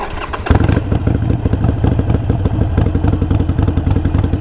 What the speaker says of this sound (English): you're going to hit the starter or the ignition